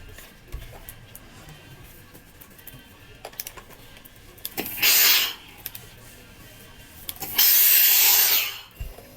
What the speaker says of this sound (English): I'm going to iron it again. I'm going to give it a very good press.